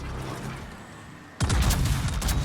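Ship guns firing shells in World of Warships, quiet ambience broken by a sudden loud salvo that rumbles on with a heavy booming roar.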